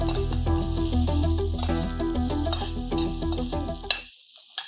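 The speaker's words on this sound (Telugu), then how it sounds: "ఇవి 3 వేగిపోయాక ఒక పెద్ద ఉల్లిపాయని సన్న ముక్కలు తరిగాను, అవి కూడా వేసేస్తాను." Chopped onion and a sprig of curry leaves sizzle and crackle steadily in a hot pan with occasional stirring clatter, close up, until the sound cuts off near the end followed by a couple of small clicks.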